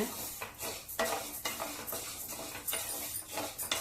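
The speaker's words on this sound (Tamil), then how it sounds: "இதையும் வறுத்து எடுத்துக்கலாம் உளுந்து வாசனை வந்தாச்சு" Black urad dal is dry-roasted in a pan, with close, repeated scraping stirs and a dry gritty rustle of grains shifting against the metal, no voices.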